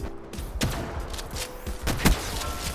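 Shotgun fire in Call of Duty: Black Ops 3 with a DLC shotgun/sniper hybrid weapon, heard as several sharp booming shots spaced irregularly, the loudest near the end, over steady game background noise.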